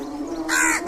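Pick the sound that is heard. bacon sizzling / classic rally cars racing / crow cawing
crow cawing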